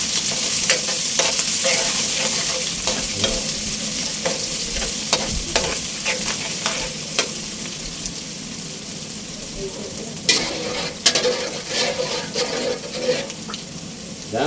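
Garlic and ginger sautéing in a pan for papaitan, a Filipino beef offal stew, giving a steady close sizzle with scattered scraping and stirring clatters, loudest toward the end.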